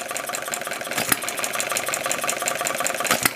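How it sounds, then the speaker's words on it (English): An early Coles hit and miss model engine runs steadily close by, its mechanical chugging broken by a few sharp firing bangs, with no talking over it. "This is a fairly early Coles hit and miss engine."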